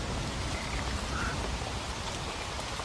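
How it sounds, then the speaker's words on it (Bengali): Steady, dense rainfall with a constant hiss of drops hitting the ground, even and unbroken throughout. "আজ সকাল থেকে ঝড়ো ঝড়ো করে বৃষ্টি পড়ছে।"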